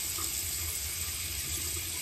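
Water runs steadily from a tap into a tub, a continuous close rushing gush with no pauses or voices.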